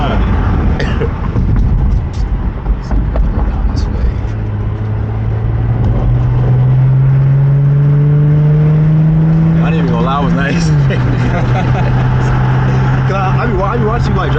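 An Infiniti Q50 accelerates hard from inside the cabin, its engine note climbing steadily in pitch, dropping at a gear change, then pulling again, with people talking over the loud engine.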